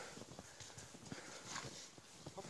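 Horse hooves clip-clop in a steady walking rhythm at close to moderate range, with a faint murmur of activity around them.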